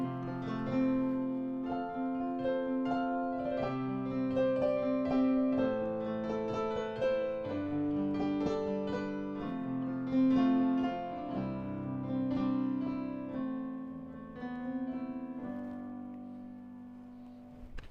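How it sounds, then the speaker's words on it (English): A digital piano's concert grand piano voice plays a flowing passage of chords and melody, full and resonant, with steady sustained notes and no talking. "that sound was just their typical concert grand piano sound"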